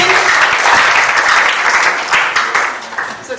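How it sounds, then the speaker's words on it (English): A room full of people applauds steadily, a dense wash of clapping that thins slightly toward the end. "A round of applause for that person."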